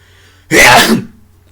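A single loud, sharp sneeze sounds up close and fades quickly into quiet.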